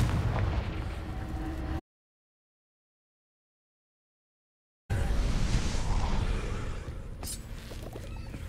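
A Confringo fire spell in Hogwarts Legacy bursts with loud explosive blasts, cutting to sudden silence for about three seconds before roaring, crackling blast noise returns and tails off.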